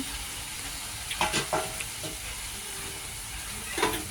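Fried soybean chunks and potato tipped into a pan of spices, sizzling steadily with a few scraping stirs of a spatula, close and moderately loud, no talking.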